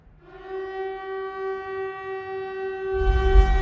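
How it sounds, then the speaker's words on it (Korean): A long, steady siren wails across the foggy town of Silent Hill in a film, a single sustained tone echoing widely, with a low rumble swelling near the end. "갑자기 온 마을에 울리는 사이렌. 기분 나쁜 사이렌과 함께 주변이 지옥으로 변했습니다."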